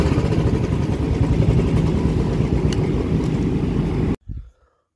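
A motorcycle engine idles with a steady, loud rumble while the bike is parked outside a gym, then cuts out abruptly near the end, leaving only a brief faint noise before silence.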